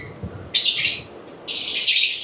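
Two bright, high-pitched chirp bursts from a young bird with malunggay bark wrapped around its neck, the second longer, with a faint quiet background between them.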